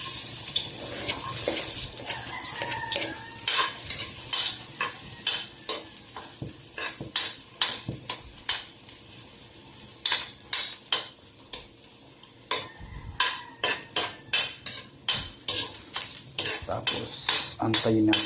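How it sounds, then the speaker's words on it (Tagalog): Garlic sautés in a pan for dinuguan: a steady sizzle of frying runs throughout, punctuated by repeated scraping and tapping of a utensil stirring against the pan, growing into a quick rhythmic series near the end, with a voice speaking over it. "Gigisa tayo. Unahin natin ang"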